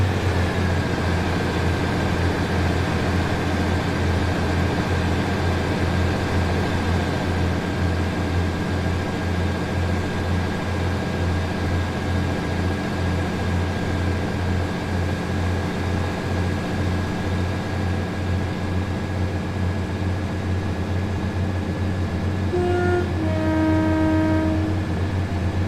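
Thomas the Tank Engine steam locomotive running in the Train Sim World 5 game, a steady loud mechanical rumble with a sustained tone throughout and brief whistle notes near the end, no talking.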